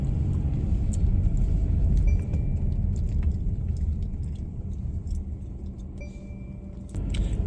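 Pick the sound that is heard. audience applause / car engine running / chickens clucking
car engine running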